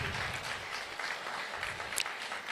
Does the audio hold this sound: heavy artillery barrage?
no